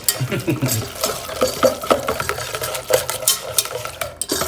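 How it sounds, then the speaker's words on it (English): A spoon churns thick, neon-orange Cheetos macaroni and cheese in a pot, with wet, sticky scrapes and clinks repeating steadily and close, no talk. "Let me mix this up."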